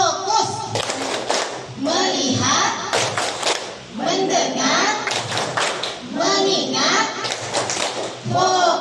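Teachers in a training session perform the tepuk fokus routine, loud clapping in patterned rhythmic bursts alongside a led chant, with voices speaking between the clap sequences.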